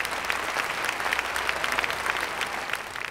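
An audience applauds steadily throughout at an Independence Day special Tamil debate (pattimandram), with dense, even clapping at close range.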